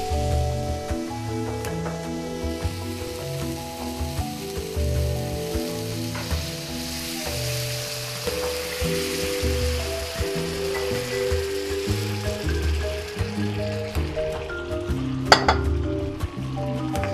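Fish stock poured into a pan of black pudding (botifarra negra), setting off loud, steady frying and sizzling with occasional utensil clinks, heard alone and close for the whole stretch.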